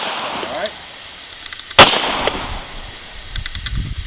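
A single sharp gunshot cracks from an aimed gun, loud and close, standing out against quiet outdoor background noise.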